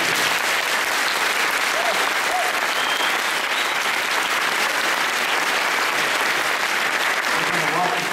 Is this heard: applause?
yes